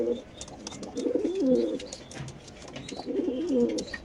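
A pair of Damascene fancy pigeons at a pigeon farm coo in low, repeated rolling phrases, close by, with faint chirps and background noise and no talking.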